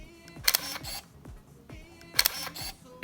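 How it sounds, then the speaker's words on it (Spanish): Konica Hexar RF rangefinder camera firing its shutter, two crisp, close mechanical clicks about two seconds apart, each with a brief whirring advance, quiet and subtle against a hushed room. "el sonido del obturador es una delicia"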